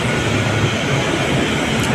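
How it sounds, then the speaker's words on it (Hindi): Continuous loud rumble and roar of a train at a platform of Kanpur railway station, a dense steady wash of rail noise with no pauses. "सो गाइस ये रही अपनी ट्रेन"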